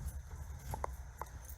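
Faint metallic jingling of keys, a few light clinks scattered over a low background rumble.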